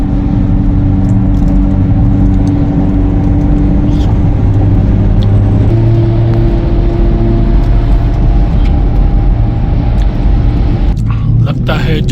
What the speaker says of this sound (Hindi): बड़ी बड़ी गाड़ियाँ आ रही है वहाँ से